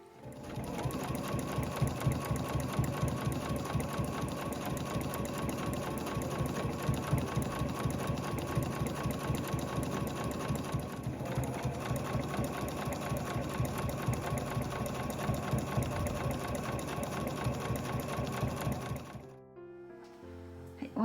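A home sewing machine stitches along the edge of a canvas tote bag, a steady rapid rhythmic clatter that runs close and continuous for most of the clip, then stops, followed by a few faint handling sounds.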